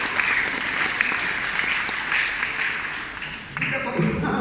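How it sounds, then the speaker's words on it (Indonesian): A church congregation applauds at a Sunday service, with steady, dense clapping throughout and a few voices mixed in. A short dip comes before the clapping swells again. "Berikan tepuk tangan buat Dia."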